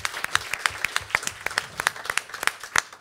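Clearly separated claps in a steady, regular rhythm sound fairly close and loud, coming from an audience at an evening gathering in France.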